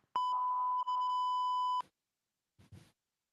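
A censor bleep sound effect: a loud, steady electronic tone held for about one and a half seconds with a brief dip partway through, cutting off abruptly, followed by a short soft rustle.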